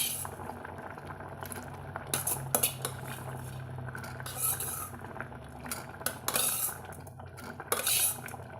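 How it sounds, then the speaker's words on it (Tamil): Okra is added to boiling green gram dal in a pot and stirred. A spoon clinks and scrapes against the metal pot over a steady bubbling simmer, with no voices. "நம்ம இப்போ வெண்டைக்காயை வந்து கூட சேர்த்திக்கலாங்க"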